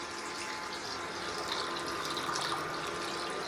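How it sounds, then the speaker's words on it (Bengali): Milk poured into a pot on a low flame while making palm kheer, a soft continuous trickling stream, fairly faint and steady with no talking. "এবার দিয়ে দিচ্ছি দুধ।"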